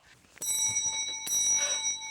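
A small shop bell rings twice by itself in a children's puppet show set, two bright metallic chimes with long shimmering sustain, close and clear with no talking.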